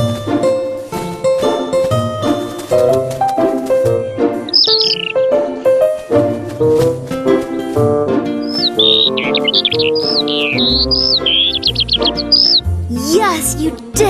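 Small cartoon birds chirp in quick high bursts over a busy, loud musical score with plinking melody, in a children's animated scene about a kite.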